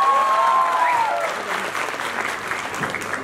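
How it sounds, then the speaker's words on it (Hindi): An audience at the Rajasthan Film Festival, held at Amity University in Jaipur, breaks into loud, sustained applause after a stage performance, a brief voice or tone fading out at the start as the clapping swells and then gradually thins. "Ek baar zordaar taaliyan ho jaye"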